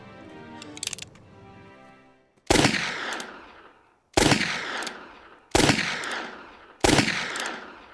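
Four loud, evenly spaced gunshot blasts ring out after a short musical or tonal lead-in, each one with a sharp attack and a decaying echo, heard alone without talking.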